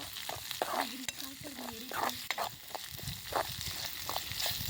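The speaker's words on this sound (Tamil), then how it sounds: "வெங்காயம் கருவேப்பிலையும் போட்டு நல்லா ஃப்ரை பண்ணி உப்பு போட்டு நல்லா இப்பயே ஃப்ரை பண்ணிடணும்" Onions and curry leaves frying in oil with salt, a loud sizzle under repeated scraping and stirring clatter from the pan, steady throughout with no speech over it.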